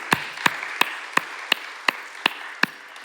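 At a UNCTAD gender and development forum opening ceremony, steady, evenly spaced claps sound at about three per second, each crisp and distinct against a quiet room.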